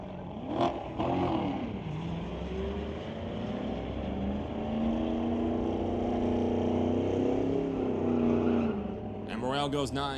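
The Slingshot Tesla drag races a Corvette at Mission Raceway Park during a street-legal night, a steady engine roar rising in pitch as the cars accelerate, with an announcer talking over it.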